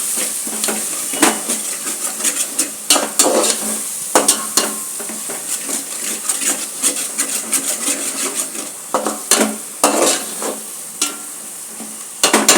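Ground coriander frying in a pan with masala for dum biryani yakni, with steady sizzling under repeated scraping and stirring strokes close by and no talking.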